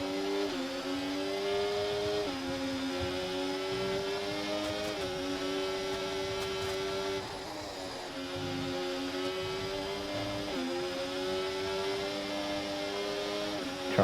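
Ferrari Formula 1 car in the F1 24 racing game, its high-pitched engine wailing steadily and shifting pitch through gear changes and corners, loud and continuous with no talk.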